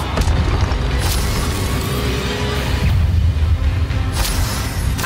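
Heavy booming blasts and bursts from spells cast in Hogwarts Legacy, a loud continuous barrage of impacts with whooshes, packed densely across the whole stretch with no pauses.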